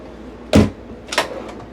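A small storage drawer in a 2026 Fleetwood Discovery 38W RV slides open and shut, making two quick, close thuds about half a second apart in a quiet interior.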